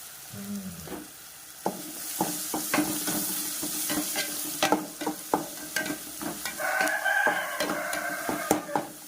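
Ingredients for a mushroom gravy sauté in a pan: a steady close sizzle broken by irregular sharp clicks and scrapes of a spoon against the metal, with no voices.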